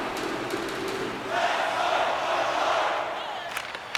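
A hockey arena crowd roars in the NHL26 video game during a tied playoff game, a broad swelling cheer that rises in the middle and then eases off, with no commentary over it.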